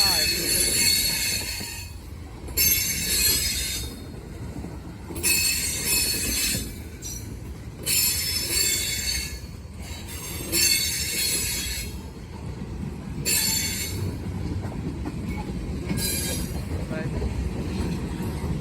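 A Norfolk Southern mixed freight train rolls past close by, with loud repeated bursts of high metallic wheel squeal over a steady low rumble and clatter.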